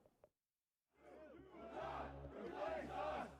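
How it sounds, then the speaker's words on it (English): Crowd of white nationalist marchers chanting slogans during a night march in Charlottesville, Virginia; a massed chorus of voices rises after a brief pause and holds loud and dense. "White nationalists chanted anti-Semitic slogans during the march"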